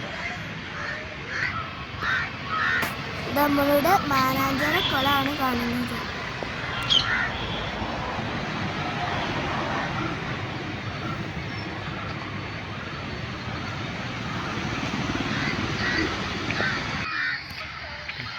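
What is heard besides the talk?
birds in the trees of Mananchira park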